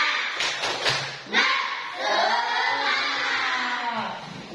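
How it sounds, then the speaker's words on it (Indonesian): A classroom clapping chant: a short burst of rhythmic group claps, then children shouting together in unison, close and lively. "Tepuk semangat."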